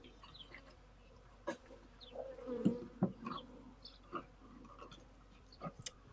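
Honeybees buzzing as they are shaken off a hive frame, a busy, mid-level hum with scattered sharp knocks and bumps, the buzzing swelling briefly in the middle.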